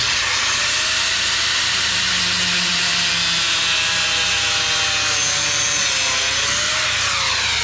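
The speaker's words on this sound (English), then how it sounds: "Let me get the grinder." An angle grinder cuts through an electrical line while a sub-panel is being wired to a tiny house on a homestead. It gives a loud, continuous, harsh hissing whine with a shifting pitch, close up and steady, with no talking.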